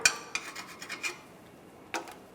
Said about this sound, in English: Just use a scraper or a screwdriver. Just clean that up a little bit.